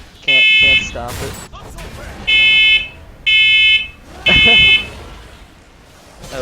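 A fire alarm beeps in four loud, piercing bursts of about half a second each at irregular gaps, heard during a League of Legends match while people talk and game sounds play underneath.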